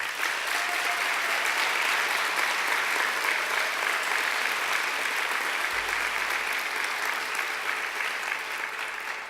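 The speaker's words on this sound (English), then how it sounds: "I think they deserve a great round of applause too." Sustained, loud applause from a graduation audience for the academic staff in a courtyard, steady and dense clapping for the whole stretch with no voices standing out.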